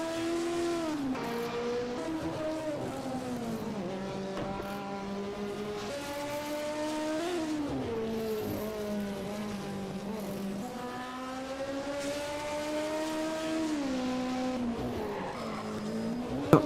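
Philip Robb's hill climb race car pulls away at the Coppa Paolino Teodori round of the European Hill Climb Championship, its engine screaming up through the gears in steady, rising sweeps, loud and continuous with no voices.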